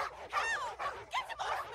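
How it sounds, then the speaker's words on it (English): Small dog giving a few quick high yips and barks, close and fairly loud, in separate short bursts. "Now release the dog!"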